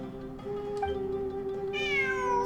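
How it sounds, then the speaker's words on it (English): A cat in the video game Genshin Impact gives one drawn-out, tonal meow that rises in pitch near the end, clear and alone over a faint background hum. "It really is a cat."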